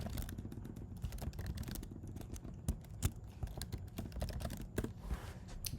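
Fingers type on a computer keyboard with rapid, irregular clicking keystrokes. Close and fairly quiet, with a few louder key hits and no one speaking.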